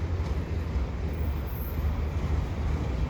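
A Canadian Pacific freight train led by a CM&Q engine rolls past a bike path in Dorval, hauling auto rack cars: a steady, low, heavy rumble that stays constant throughout.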